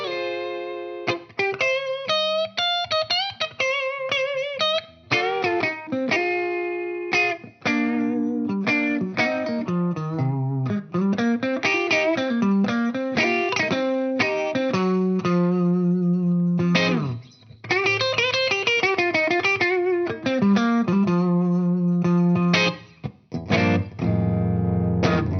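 Distorted electric guitar from a Les Paul through a Dr. Z amp, playing bluesy riffs and bends with crunchy gain, no talking.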